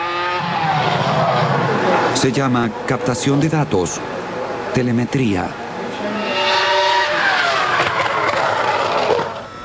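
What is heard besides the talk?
Formula 1 race car running on the track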